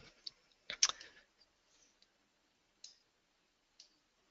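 A computer mouse clicks during software work: a quick cluster of sharp, faint clicks, then a few isolated single clicks spaced out in a quiet room.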